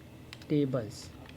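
Quiet keystrokes on a computer keyboard as an SQL command is typed, a few soft clicks mixed with a brief spoken voice in the middle.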